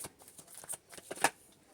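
Tarot cards being shuffled up close, a quick run of soft papery flicks and riffles with one sharper snap near the end.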